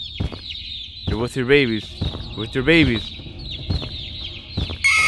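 Chickens in the video game Garten of Ban Ban 2 cluck and squawk in several short close bursts over a steady high electronic tone, while a person talks over them.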